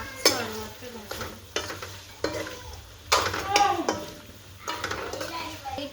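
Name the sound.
tomatoes cooking with mutton in pan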